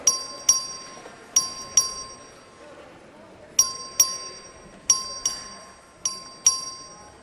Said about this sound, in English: Clerk, ring the bell.